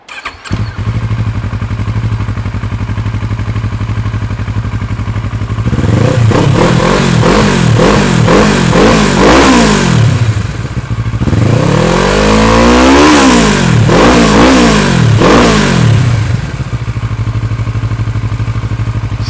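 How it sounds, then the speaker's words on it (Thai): A Kawasaki Versys parallel-twin motorcycle engine idles steadily, then revs up loudly in two separate bursts of throttle before settling back to a low idle. "มาฟังเสียงเครื่องยนต์ทั้ง 2 รุ่นกัน"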